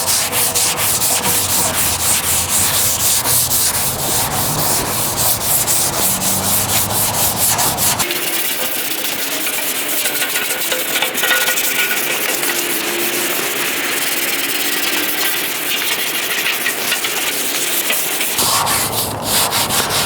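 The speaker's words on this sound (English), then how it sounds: "So I'm just going to go ahead and scuff this up real nice." A rusty metal panel is scuffed by hand to remove surface rust, a loud, continuous, rapid rasping scrub that runs the full length with shifts in stroke intensity and no talk.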